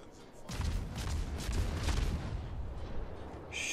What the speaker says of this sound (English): Shots out on this Lexington.